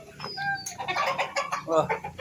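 Chickens cluck and chatter close by in a busy, overlapping series of calls, with a few brief higher squawks early on.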